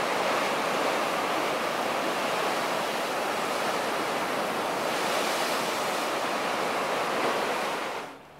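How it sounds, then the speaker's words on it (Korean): Winter sea waves crash against coastal rocks beside a lookout path near Sodol Adeul Bawi Park in Jumunjin, Korea, a loud, unbroken roar of surf and spray that fades away at the very end. "바위들에 부딪히는 겨울바다의 역동적인 파도를 바로 옆에서 느끼실 수 있습니다"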